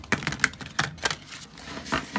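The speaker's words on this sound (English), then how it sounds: "So to shuffle, this is going to have to be an overhand this way" Oversized tarot cards on non-sticky cardstock are shuffled overhand, giving a rapid run of crisp, papery slaps and flicks in an uneven rhythm, close and fairly loud with no talking.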